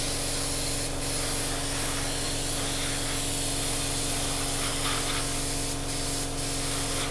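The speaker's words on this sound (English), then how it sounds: "blow all that rubbish out of your airbrush now" An airbrush blasts cleaner through to purge paint residue after model painting, a loud unbroken hiss of spray lasting the whole stretch with a steady compressor hum beneath and no speech.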